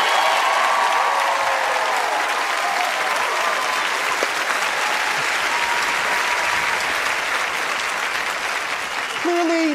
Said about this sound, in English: can I at least get all the applause you would give me anyway at the end up front while I'm alive to enjoy the applause?